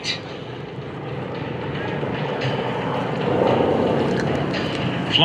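A Kate warbird, a vintage Japanese torpedo bomber, flies past at an airshow, its steady, loud engine drone filling the air throughout and swelling slightly toward the end.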